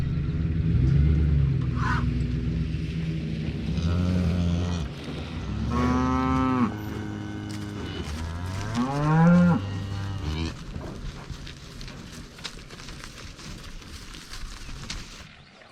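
Cattle moo loudly and repeatedly at a farm corral while feed is put out for them, several long drawn calls close by over a low engine rumble.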